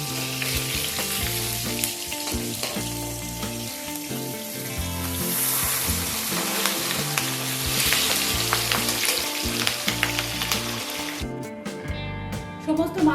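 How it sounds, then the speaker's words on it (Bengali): Bata fish fry in hot oil in a home kitchen, a continuous crackling sizzle under steady background music, with a brief clatter and rising splutter near the end. "আমি দুবারে মাছগুলো ভেজে নেব"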